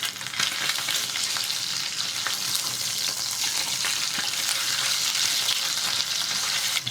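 Beef short ribs sear in hot oil in a pan, a loud, continuous sizzle and crackle close up with scattered pops and occasional stirring, no voices.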